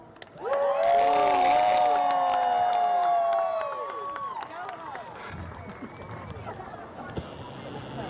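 A crowd at a spring fair lumberjack show cheers and claps for a competitor, with loud whoops and shouts bursting in at once, then settling into scattered clapping and crowd murmur.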